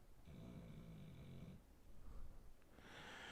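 A dog lying in a corner snores steadily: a long rasping inhale, then rougher snorting breaths, faint and close, with no talking.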